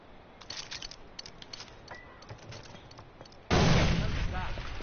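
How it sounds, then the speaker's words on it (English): A grenade explosion in the video game Far Cry 4: scattered gunfire pops lead into a sudden loud blast whose roar holds on to the end, with no talk. "Let me try to throw a grenade at that thing."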